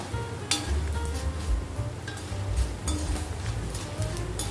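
Tamarind water hitting lentils frying in a pan, giving a steady close sizzle with crackling pops and a few light clinks of a utensil against the pan.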